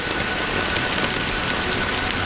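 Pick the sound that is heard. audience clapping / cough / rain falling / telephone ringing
rain falling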